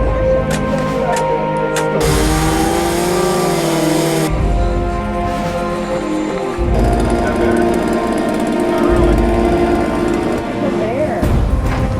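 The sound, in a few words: chainsaw cutting a tree stump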